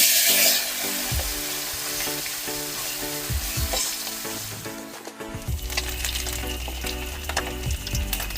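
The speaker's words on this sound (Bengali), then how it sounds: "আমি এবারে মাছগুলো ভেজে নেবো" Small puti fish sizzle and crackle in hot mustard oil in a heated kadai, a loud steady fry with occasional clinks and stirring scrapes, no voices.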